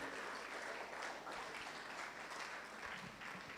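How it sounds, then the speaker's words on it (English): Short burst of audience applause at a youth conference in Kaduna State, even and continuous, heard from a distance and fairly quiet. "Please, a resounding applause for that speech and that assurance."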